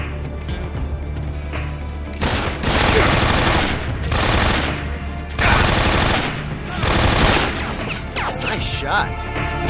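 Gunfire during a boss fight against Ocelot in Metal Gear Solid 3: Snake Eater, heavy bursts of rapid shots in repeated long volleys separated by brief lulls, loud and close.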